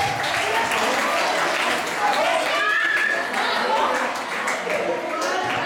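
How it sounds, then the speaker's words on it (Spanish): An audience at a talk for teenagers applauds, sustained dense clapping filling the hall with some chatter mixed in. "Un aplauso para el compadre,"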